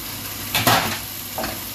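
Meat dropped into a pan of browned frying onions sets off a burst of sizzling, with a second, smaller hiss as the mixture is stirred. The sizzling sits close over a steady background of frying.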